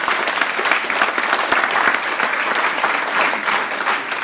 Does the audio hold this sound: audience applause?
yes